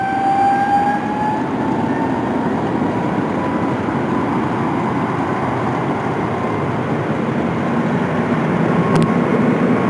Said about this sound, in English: This Boeing 777 aborting its takeoff and applying full rudder.